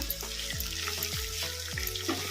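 Chopped large onion fries over a medium flame in a pan, with a steady sizzle and a run of regular scraping stir strokes, fairly close and with no talking.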